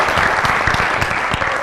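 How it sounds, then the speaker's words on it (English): A studio audience at a talk show breaks into loud, dense applause, with a steady wash of many hands clapping close by and no talking. "An applause for yourselves"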